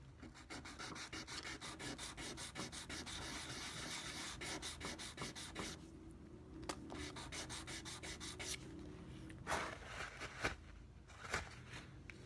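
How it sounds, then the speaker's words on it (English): Fine 600-grit sandpaper rubbing a nub on an unpainted plastic model, a steady close scratchy rasp of rapid back-and-forth strokes with brief pauses and a few lighter passes near the end. "This one we're gonna need a little more sanding"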